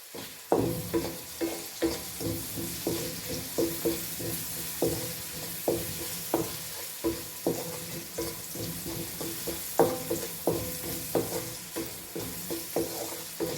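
Dried red chillies, cut in halves, fry and crackle in hot oil in a pan while being stirred, giving a steady sizzle broken by rhythmic scraping taps of the spoon, with no talking.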